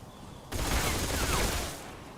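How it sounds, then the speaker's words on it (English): Gunfire aimed at the player in Metal Gear Solid 4, a sudden dense burst of rapid shots that rattles for over a second, loud and close, then eases back to background noise. "Stop shooting me."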